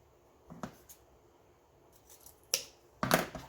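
Scissors snipping through thick green mesh ribbon, a few close crisp cuts with a small pair near the start and a louder, longer crunching cut at the end, no talking.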